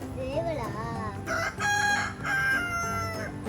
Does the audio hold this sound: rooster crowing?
yes